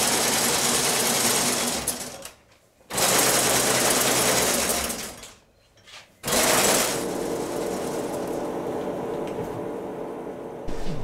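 Industrial garment-making machine in a small family knitwear factory, running in loud, fast continuous bursts with two brief stops before a long steady run, close and without talk.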